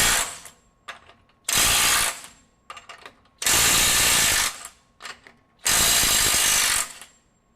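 A FLEX FX1451 mid-torque cordless impact wrench in reverse, set to mode 3, fires three long, loud, hammering bursts close by, with shorter sputtering rattles between them and no talking.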